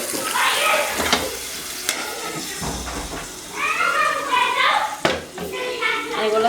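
Food sautéing in a pan while being stirred, a continuous soft sizzle and hiss with occasional clinks of a utensil, heard close under someone talking throughout.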